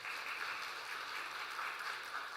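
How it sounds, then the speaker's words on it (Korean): Church congregation applauding during a Sunday service, a steady, even wash of clapping heard from a distance at low volume, with no talk over it. "우리 박수로 축하하도록 하겠습니다."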